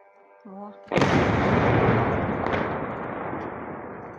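A single loud, distant drone-strike explosion at an oil depot in Russia booms and rolls out into a long rumbling decay, preceded by a brief faint tone.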